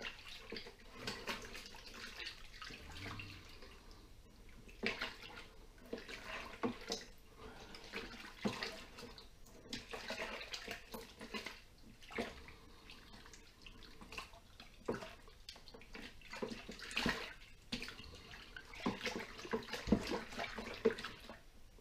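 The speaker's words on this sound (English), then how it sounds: "Give it a good stir around to mix it all in." Thick home brew mixture being stirred in a bucket, a soft, continuous sloshing and swirling of liquid at close range with irregular splashy peaks and no talking.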